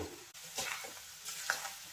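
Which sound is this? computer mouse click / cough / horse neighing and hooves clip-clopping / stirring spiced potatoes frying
stirring spiced potatoes frying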